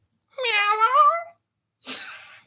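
A cat gives one clear, drawn-out rising meow close by, then after a short pause a second shorter, breathier meow.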